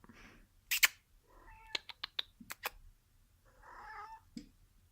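A cat meows several times in short, clear calls, with quieter trills and chirps between them in an otherwise quiet space.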